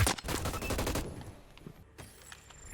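Rapid bursts of assault rifle fire in the video game Hyper Scape: a dense, loud volley for about a second, then fainter scattered shots and game ambience.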